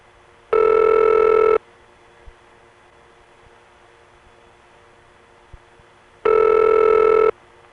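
Two loud, high-pitched telephone rings on a Highland Mills line, each about a second long and several seconds apart, with a steady hiss of carrier noise filling the gaps between them.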